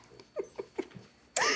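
A hungry pet dog begs for dinner with a string of short, whining yips and whimpers, close and alone, before a sudden loud burst of noise cuts in.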